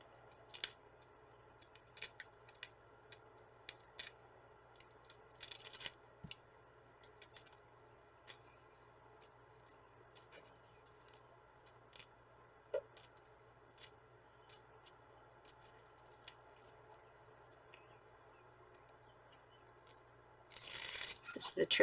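Sticky tape is pulled up while making a handmade card: faint scattered ticks and light crinkles in a quiet room, ending in a louder rasping peel.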